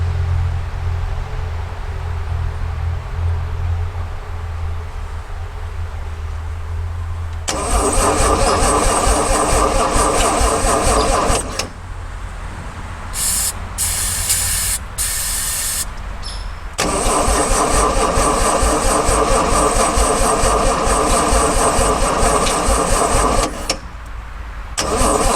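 An old Toyota FJ40 with a 2F engine, sitting almost 20 years, cranks and catches, running loud and rough in two long bursts separated by a pause with brief revving and sputtering, then cutting off.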